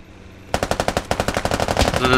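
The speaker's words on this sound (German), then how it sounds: "die schießen ihn gerade kaputt, die haben einen kleinen Kaliber" Small-caliber automatic gunfire in the Squad military shooter game, a rapid loud burst of evenly spaced shots starting abruptly and continuing for about two seconds.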